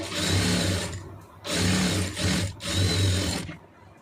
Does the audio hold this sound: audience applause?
no